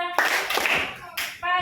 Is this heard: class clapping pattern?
yes